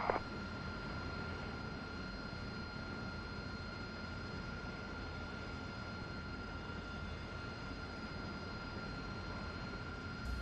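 An AV-8B Harrier jet in DCS rolls slowly forward on the ground, its engine a steady, even whine and broadband roar held at a constant level throughout, with a high tonal hum running underneath.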